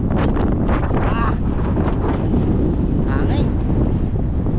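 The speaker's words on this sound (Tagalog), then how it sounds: "Hangin." Strong wind buffeting the microphone outdoors, a loud, constant roaring rumble with faint voices in the background.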